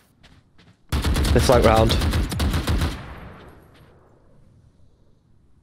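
Gunfire in the video game Valorant, a sustained rapid burst of automatic shots lasting about two seconds with a fading tail, under brief talk from players.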